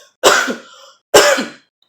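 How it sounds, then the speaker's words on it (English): Two forceful coughs, close and loud, separated by a short pause of silence. "So an example of forced expiration would be coughing."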